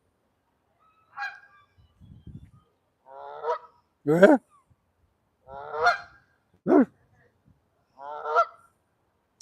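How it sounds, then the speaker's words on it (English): Canada geese honk outdoors in Victoria, Canada, a series of loud, close, separate honks spaced a second or two apart, with a brief quiet voice in between. "guess I don't speak goose. Well, not Canada goose anyway."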